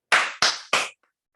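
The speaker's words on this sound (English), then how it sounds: "Yourself a round of applause." Three sharp, loud claps in quick succession, a group clapping in unison, each burst ringing briefly before silence follows.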